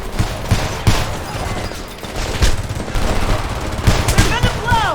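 Sustained gunfire in the video game Homefront, dense bursts of automatic fire and sharp shots crackling continuously, with shouted voices mixed in and a rising whine near the end.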